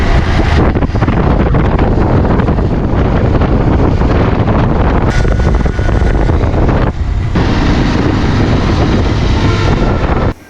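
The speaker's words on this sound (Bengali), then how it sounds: "যাচ্ছি বাসার দিকে রাস্তায় বাইক চালাচ্ছি" Strong wind buffets the microphone while a motorbike rides along a road, a loud continuous roar that dominates throughout and cuts off abruptly at the end.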